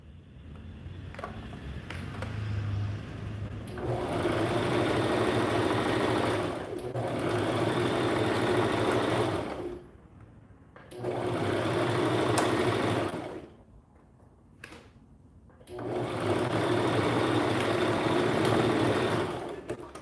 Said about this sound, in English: we're gonna start sewing. We're gonna back stitch.